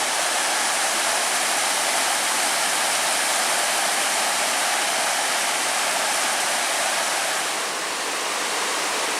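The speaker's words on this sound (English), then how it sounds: "And this is another one of the cool looking waterfalls" A small waterfall on the Carp River trail in Michigan's Porcupine Mountains, running with low flow, gives a steady, close, broadband rush of falling water that holds unbroken throughout.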